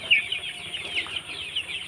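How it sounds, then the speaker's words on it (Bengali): A flock of 33-day-old Sonali chickens clucks and chatters continuously on a poultry farm, with many overlapping nearby calls and no talking. "দেখেন আমার মুরগিগুলো কতটা বড় হয়ে গেল।"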